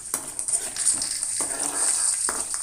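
Peanuts fry in a pan for upma, a steady soft sizzle with a few light scraping and stirring clicks, close and moderately loud, no talking.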